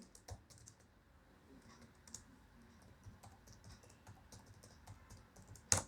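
Keys on a computer keyboard clatter in quick, irregular runs while commands are typed, ending in one sharper, louder press of the Enter key; close, fairly quiet and with no talk.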